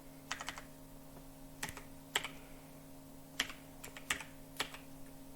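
Keys tapped on a computer keyboard in quiet bursts of a few strokes separated by pauses, light crisp clicks close by over a faint steady hum, no talking.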